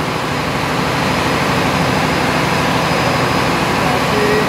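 Cummins QSM 11 diesel generator set working as an auxiliary engine aboard an Indonesian cargo ship, a steady loud broadband engine drone with constant mechanical hum filling the engine room, people talking over it.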